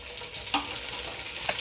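Tomatoes frying in a pan with a steady, moderately loud sizzle and two short scraping stirs.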